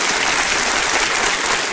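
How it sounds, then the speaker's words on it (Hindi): Studio audience at a televised quiz show clapping steadily, a dense, even wash of applause that fills the whole short stretch without pause or voices. "तालियां बजती रहे इनके लिए"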